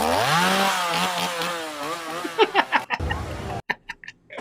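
Chainsaw clowns rev their chainsaws at Halloween Horror Nights in Orlando: a loud, close engine whine that wavers up and down, then breaks into sharp, choppy bursts and short pauses.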